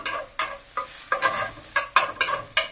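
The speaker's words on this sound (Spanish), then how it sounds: "Y le movemos a que se sazone bien. Incorporamos nuestros chiles." Chiles being stirred into a sizzling mushroom soup, with a utensil scraping the pot in about eight distinct strokes over steady frying hiss, close and alone.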